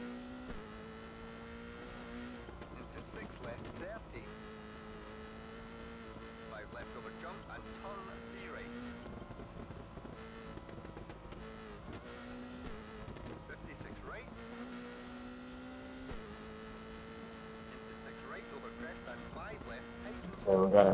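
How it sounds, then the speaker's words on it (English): Engine note of a Subaru car in a retro racing video game, a steady synthesized drone with shifting harmonic tones that holds at an even level for the whole stretch, with a brief louder burst at the end. "I like the sound which the Subaru engine makes. Sounds pretty darn nice."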